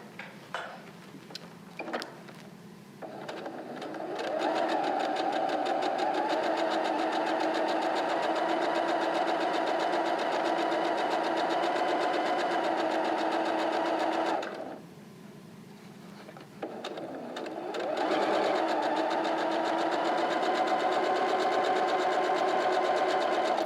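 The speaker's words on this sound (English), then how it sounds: "we're going to stitch the curved side" A sewing machine stitches the curved seam of a fabric face mask with a 1/4 inch seam allowance, its steady close whirring running in two long passes separated by a brief pause, with a few light clicks at the start.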